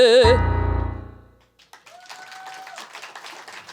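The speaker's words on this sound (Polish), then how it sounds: "Wielkie brawa!" After a sung or spoken poetry performance at a competition in Wrocław ends, a live audience breaks into scattered, building applause with sharp claps after a brief pause.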